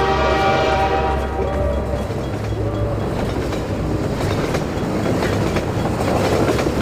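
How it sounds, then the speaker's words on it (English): An approaching train in Half-Life 2 rumbles loudly and steadily throughout, with a low mechanical roar, clattering wheels and a horn-like tonal drone early on, filling the whole stretch without pause. "You turn around and there's a train coming this way."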